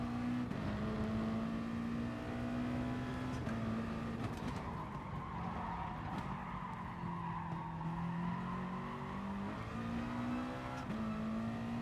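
Group 2 race car in Gran Turismo Sport, its engine droning steadily at high revs with shifting pitch and occasional tire skids, loud and continuous with no talking.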